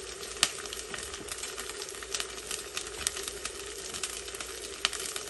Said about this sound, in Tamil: இப்போ ஒரு அரை பெரிய வெங்காயம் கட் பண்ணி ஆட் பண்ணிக்கிறேன்